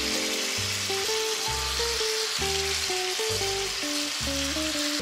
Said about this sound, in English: So we're getting like a pre-sear going on here.